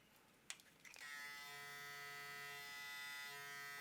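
A Suprint vinyl electric hair clipper switches on with a click and settles into a steady, close motor buzz that runs alone without a break.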